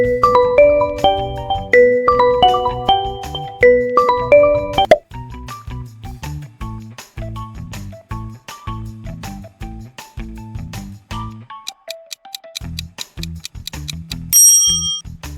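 Oppo phone ringtone: a bright, plinking melodic tone with bell-like plucked notes in a steady rhythm, loud and close, with a tinkly high chime near the end and no talking.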